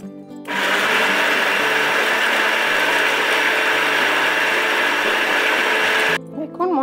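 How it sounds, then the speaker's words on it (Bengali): A kitchen blender spins up suddenly and whirs loudly and steadily for several seconds, grinding a paste of cashew, mustard, poppy seed, onion and yogurt, then cuts off abruptly into brief background noise. "সেটা একটুখানি ব্লেন্ডারটা ঘুরিয়ে নিয়ে তারপর দেব"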